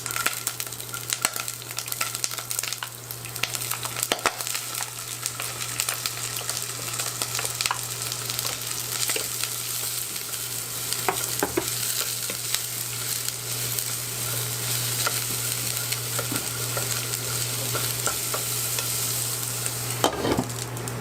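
Garlic sautéing in canola oil in a pan, a steady broad sizzle running throughout with occasional stirring clicks and scrapes, close and continuous, no voices.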